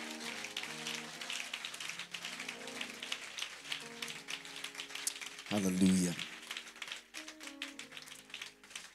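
Church congregation at a conference clapping along in praise, rhythmic hand claps mixed with music and a voice shouting over them, with a louder swell near the end.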